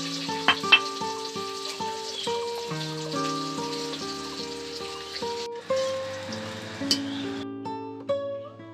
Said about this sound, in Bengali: তেলের উপর দিয়ে দিচ্ছি 5 ফোড়ন